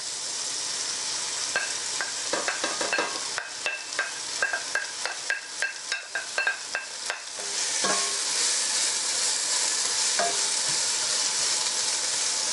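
Onions sweating in a little oil with cumin, garlic and asafoetida for an aubergine and red pepper curry: a steady close sizzle with a run of sharp spoon-scraping stirs in the pan, then a softer continuous fry.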